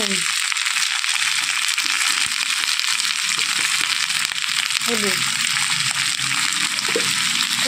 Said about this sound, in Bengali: তেলটা গরম হয়ে গেছে আমি কুদরিগুলো দিয়ে দিচ্ছি